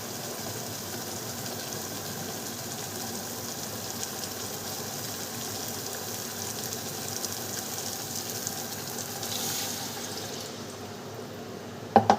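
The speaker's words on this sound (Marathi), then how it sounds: "आता आपण पाणी टाकून घेऊ शिजायला" Water is poured into a cooking pot of brinjal curry, a steady even rushing stream lasting several seconds, moderately close, ending in a few sharp knocks with no talking.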